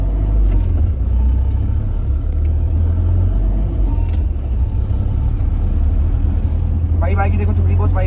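A Mahindra Thar CRDe diesel engine pulls away in first gear on the clutch alone with the handbrake down, a loud, steady low rumble and drone close to the cabin, with someone talking over it.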